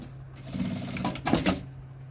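A sewing machine stitches across the end of a fabric bag handle in a short, steady two-second run, close and alone with no voices.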